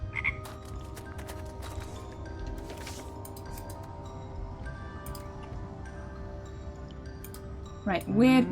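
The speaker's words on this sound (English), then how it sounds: "There's a lot more frogs spawning today." Frogs croak in the video game Wytchwood, a steady bed of repeated croaks over a soft ambient drone with scattered clicks, ending with a brief louder chirping flourish.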